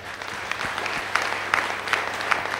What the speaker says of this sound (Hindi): मैं चाहता हूं सर के लिए भी जोरदार तालियां।